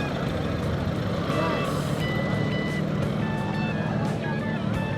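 A vegetable truck reverses at night at Divisoria market. Its reversing alarm beeps repeatedly over a loud, steady rumble of engines and busy market chatter.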